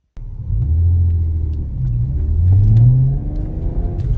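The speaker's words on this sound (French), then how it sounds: "Donc la bagnole maintenant tourne carrément mieux." A Volkswagen Golf 4 with a VR6 engine runs close by with a loud, deep rumble, the revs swelling up and easing back down.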